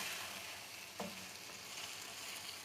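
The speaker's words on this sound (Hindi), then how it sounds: "चिकन को हम 4 से 5 मिनट के लिए फ्राई करेंगे।" Small chicken pieces frying in a karahi give off a quiet, steady sizzle, with a brief stir or clink of a utensil partway through.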